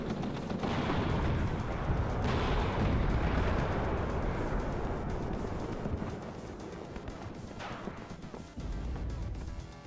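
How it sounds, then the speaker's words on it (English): Gunfire and explosions in WARNO, a real-time strategy war game, form a loud, continuous rumble of booms and shots with sharper blasts breaking through. "We are getting some shots in on him."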